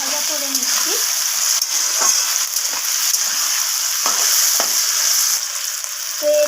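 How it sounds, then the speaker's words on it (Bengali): Chopped tomatoes fry with the base for chana paneer in a pan, a loud, continuous sizzle broken by repeated scrapes and knocks from stirring, close up and with no talking. "তো সব কিছুকে আবারও নাড়াচাড়া করে একটু ভাজা ভাজা করে নিচ্ছি।"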